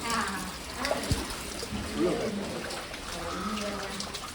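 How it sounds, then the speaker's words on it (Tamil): Floodwater flows steadily into a house in Jaffna, running and trickling throughout, a continuous wash with scattered splashes and some faint voices in the background. "வீட்டுக்குள்ளெல்லாம் தண்ணி எல்லாம் வருதுண்ணே."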